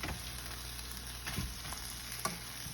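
Corned beef sautéing in a pan, a soft steady sizzle and frying hiss with faint occasional stirring scrapes and clicks, fairly quiet and with no voice.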